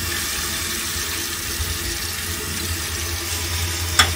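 Water pours steadily from a Camp Chef Triton portable water heater in a cargo trailer conversion, a continuous close hiss and splash like a running tap, ending in a brief sharp knock.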